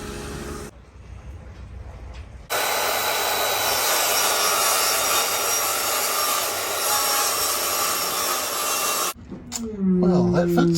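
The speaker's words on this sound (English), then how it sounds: "Now we need to cut down this bit of plywood to fit" Hand saw cutting a piece of plywood aboard a sailboat hauled out of the water. The strokes run loud and close for several seconds, then stop, followed by brief handling noise.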